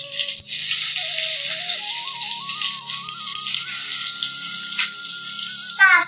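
Garlic and cumin seeds sizzle steadily in hot oil in a village kitchen, a continuous bright crackle under a tonal melody playing throughout.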